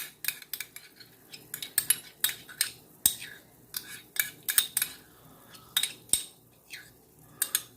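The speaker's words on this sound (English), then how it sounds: "Go ahead and get that whisked in a little bit." A whisk beats Dijon mustard into a cream sauce, giving repeated metallic clinks and scrapes against the pan in an uneven rhythm, close and fairly crisp.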